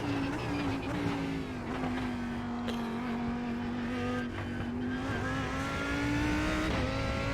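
A GT race car in the iRacing sim, lapping Monza, drones through a steady engine note that climbs and drops slightly with gear changes, loud and continuous, with other cars faintly audible around it.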